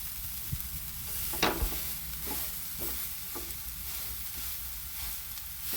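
Instant dosa batter roasts on a hot griddle with a steady close sizzling hiss, broken by a few light clinks and scrapes early on; no voices.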